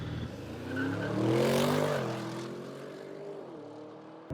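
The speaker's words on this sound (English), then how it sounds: "launch control activated, and away we go" An Audi RS7 or BMW M850i in a drag race makes a launch-control start, its engine note climbing and swelling loudly, then dipping at a gear change and pulling on again, with no talking.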